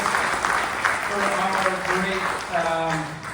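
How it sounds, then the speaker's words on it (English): Crowd at a neighborhood association meeting giving a round of applause, loud continuous clapping with people talking and cheering over it. "So please give him another round of applause for all that he does"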